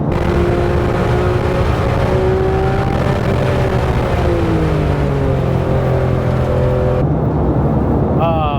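A Porsche GT3 RS sports car driven hard on a road, its engine droning loud and close with rising and falling pitch through gear changes, then cutting off sharply near the end.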